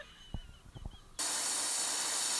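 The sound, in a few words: air hose blowing out, hissing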